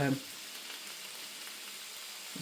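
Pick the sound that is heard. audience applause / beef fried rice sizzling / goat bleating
beef fried rice sizzling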